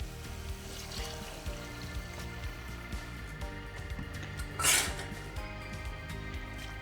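Rinse water from a mixer jar is poured into a seed paste for paneer curry. Soft pan clinks and trickles lead to one short, louder splash as the water goes in, then quieter dribbling, with no speech.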